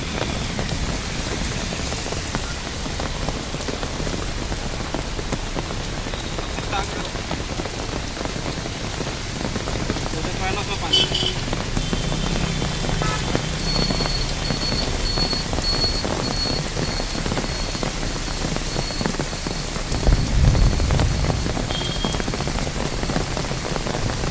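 Heavy rain pours steadily onto surfaces in Chhindwara, India, a dense continuous patter of drops throughout.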